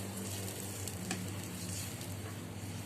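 Noodles fry in a wok, giving a constant close crackling sizzle, with a soft scrape as the spatula stirs them. No voices are heard.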